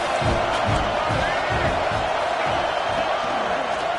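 A Florida State college football stadium crowd keeps up a loud, steady roar of cheering and noise between plays, filling the whole stretch without a break.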